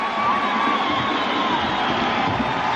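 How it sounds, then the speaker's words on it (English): Basketball fans in a VCU versus Tennessee game in 1981 rise and cheer, a broad, continuous crowd roar with shouts and whoops filling the arena at steady high volume. "And the fans of VCU are standing and cheering"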